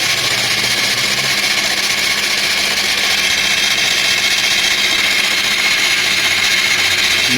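A Honda Varadero 125 motorcycle engine is cranked over and over without firing because of a no-spark fault, giving a steady, continuous mechanical whir and churn close by with no voices.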